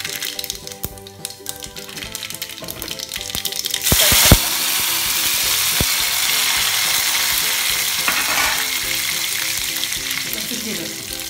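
Mustard seeds dropped into hot oil for a chutney tempering set up a loud, steady sizzle with popping crackles, building over the first few seconds and then holding a dense frying hiss to the end.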